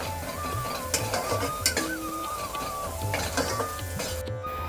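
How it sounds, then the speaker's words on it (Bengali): Spices being stirred and fried together in a pan for muri ghonto, with continuous sizzling, spatula scrapes and clatter, plus a steady mechanical hum underneath. "ভালো করে সব মশলা একসাথে কষিয়ে নেবো"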